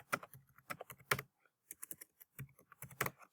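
A search query is typed on a computer keyboard in a quiet room, producing quick, irregular bursts of soft, crisp key clicks with short pauses between words.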